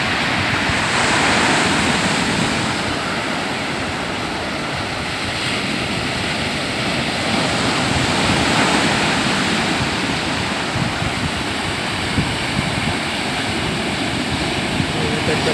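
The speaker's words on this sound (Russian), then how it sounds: "Обалденно большая волна получилась" Big sea waves break against the shore near a river mouth, a loud, continuous close-up roar of surf that swells and recedes slightly, with gusts of wind hitting the microphone.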